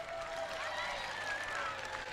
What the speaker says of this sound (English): Folks, give the youngsters a round of applause.